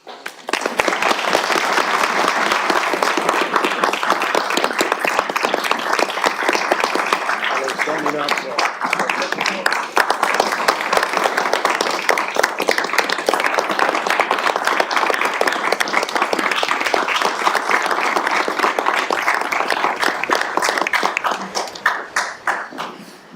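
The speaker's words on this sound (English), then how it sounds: "I just want to applaud you on behalf of the City Council and our chair for the work you've done" Sustained, dense applause fills a Chattanooga city council chamber for a retiring city employee, many hands clapping steadily for over twenty seconds before tapering off at the end.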